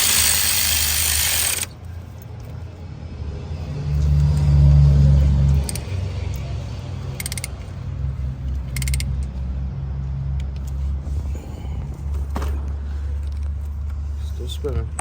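A half rebuilt Acura Integra engine turns over with a steady low mechanical whir and hum, swelling for a few seconds then settling, with brief metallic clinks and people talking nearby.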